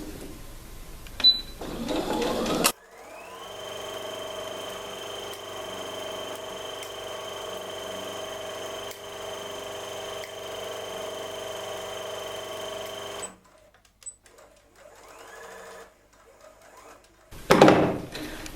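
A sewing machine stitches a half-centimetre seam on wrap pants in a steady, close mechanical whir for about ten seconds. Brief handling noises come before and after the run.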